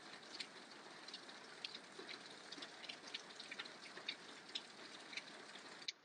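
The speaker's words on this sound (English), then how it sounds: "the surf's up in the background and the rain's coming down" Rain patters steadily and softly at Canada's Bay of Fundy, with surf washing in the background: a faint, continuous hiss of falling drops with no voices.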